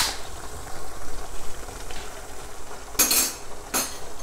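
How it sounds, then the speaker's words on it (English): A spoon stirring Bolognese sauce in a pot gives soft scraping strokes, with two sharp metallic clinks against the pot near the end. "So I'm gonna give that another stir."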